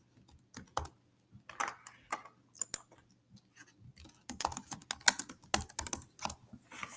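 Fingers type text on a Chromebook keyboard, making irregular clusters of light, close key clicks that speed up into denser bursts over seven seconds in an otherwise quiet room.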